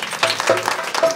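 Brief burst of loud clapping from an audience at a satsang anniversary gathering, dense overlapping claps over about a second.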